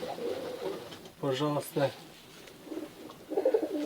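A Tajik black-nosed pigeon gives soft, close coos in short bursts while someone talks quietly nearby.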